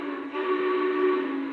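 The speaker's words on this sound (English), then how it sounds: "I don't really care for the whistle on this Legacy LionMaster." A Lionel Legacy LionMaster O-gauge model steam locomotive sounds a sustained, breathy whistle chord for about a second and a half, steady and fairly loud, with no talk over it.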